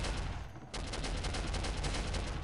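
Rapid bursts of gunfire crackle in a Soldier of Fortune gunfight, a brief pause giving way to a steady run of loud, close shots.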